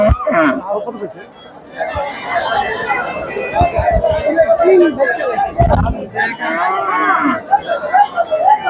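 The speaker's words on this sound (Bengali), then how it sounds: "বিভিন্ন জায়গা থেকে গরু আসছে অনেকেই গরু ক্রয় করছে" Cattle mooing at the Hazratpur cattle market in Keraniganj, Dhaka, several low calls rising over a busy crowd of chatter and talk, with a loud nearby bellow midway.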